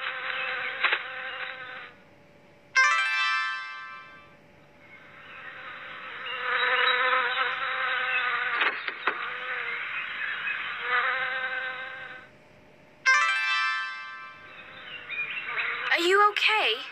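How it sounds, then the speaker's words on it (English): Steady insect buzzing drones throughout at moderate loudness, with brief chirps and voice-like bursts breaking in now and then. "Ah, bees, bees."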